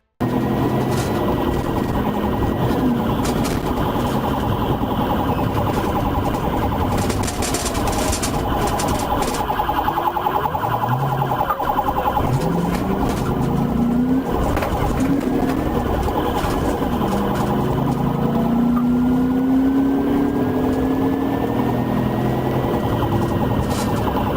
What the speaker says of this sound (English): activated its emergency lights and sirens